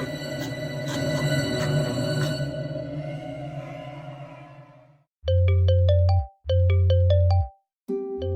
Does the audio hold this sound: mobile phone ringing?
yes